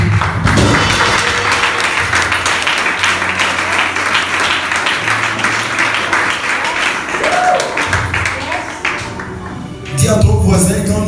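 A church congregation applauds in praise, a loud, dense wash of clapping that continues steadily for several seconds, with voices mixed in and a brief dip near the end.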